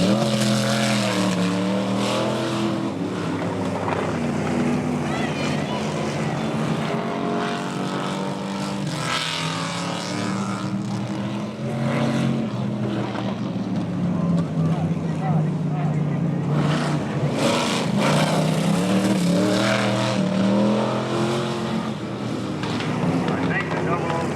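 Old-timer race cars, including a black and orange car, racing at an IMCA oldtimers exhibition at a pioneer village in Hastings, a steady roar of engines rising and falling as they pass, with wind noise and people talking over it.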